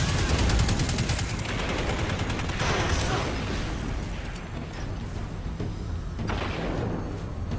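Rapid gunfire from Destiny 2 shooter gameplay, a dense steady barrage of shots with explosion-like bursts, loud and continuous throughout.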